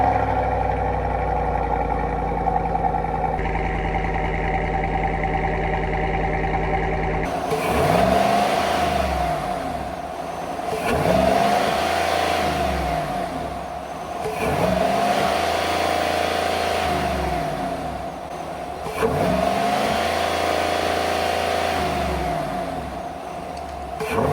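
A car engine with an upgraded metal cold air intake revs repeatedly, starting from a steady idle and then climbing through four or five loud, close revs that rise and fall with the throttle.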